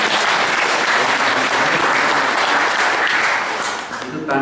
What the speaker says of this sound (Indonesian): Jadi tepuk tangan buat kawan-kawan